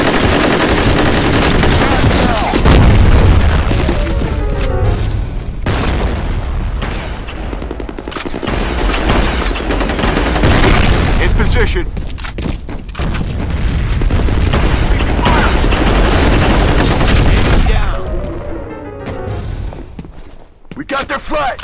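Grenade blasts and rapid gunfire from a F.E.A.R. Combat multiplayer match, with dense overlapping bursts, heavy booms and thuds running almost continuously at close range, under shouted game callouts.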